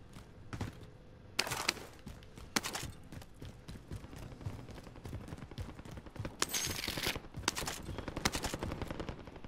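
SMG fire in the video game Warzone: several short bursts of rapid shots stand out over a busy background of game noise, with louder bursts spaced irregularly through the clip.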